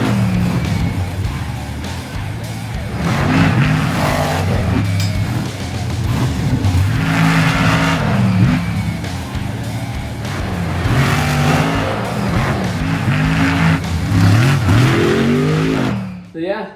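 A custom Losi LMT 6x6 RC monster truck drives with whining, revving electric motor rising and falling in waves, close and loud, and a voice talks over parts of it.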